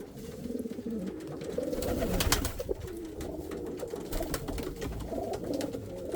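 A pouter pigeon coos in soft, rolling low calls repeated over several seconds, close and fairly loud, with faint background rustle and no talking.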